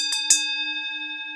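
A boxing bell rings twice in quick succession, two sharp metallic strikes followed by a long, pure ringing tone that slowly fades, loud and close.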